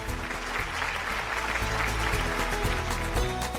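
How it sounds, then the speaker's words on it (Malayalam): A studio audience on a Malayalam TV show claps in a dense, sustained round of applause, loud and close, with a low musical hum running beneath. "നല്ലൊരു കയ്യടി."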